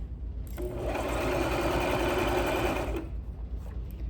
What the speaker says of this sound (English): Sewing forward a few stitches.